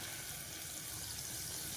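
A little water pours into a hot pan of spice paste for a South Indian spinach thokku, a close, steady rushing hiss with no voices.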